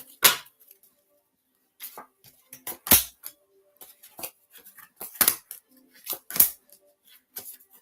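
Oracle cards are shuffled up close in quiet surroundings. Crisp, papery snaps and riffles come in irregular clusters with silent gaps between them.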